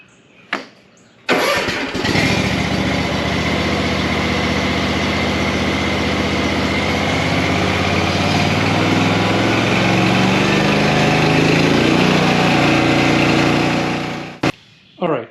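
The engine of a Kubota Z412 zero-turn mower cranks briefly, catches, and settles into a loud, steady idle close by for over ten seconds before cutting off, with a couple of short knocks before and after.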